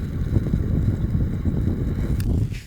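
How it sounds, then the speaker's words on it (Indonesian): Strong wind buffets the microphone outdoors while fireworks are set off, a continuous loud low rumble that fills the whole stretch, with a faint brief click near the end. "Anginnya kencang sekali guys."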